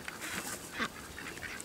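Muscovy ducks give a brief run of soft, breathy calls, faint and near, over low outdoor background noise.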